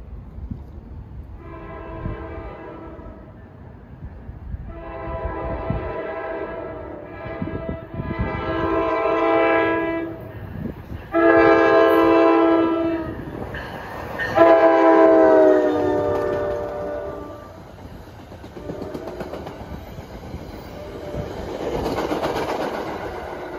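An NJ Transit diesel passenger train on the Hoboken to Suffern run sounds its horn in a series of loud blasts, the last one longer, then rumbles past close by with rolling wheel and engine noise.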